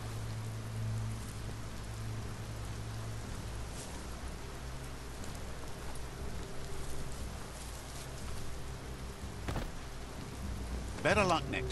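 Heavy rain in Biomutant drums down steadily across a graveyard, a continuous wash of noise with a low rumble early on and a brief sharp burst near the end, no voices.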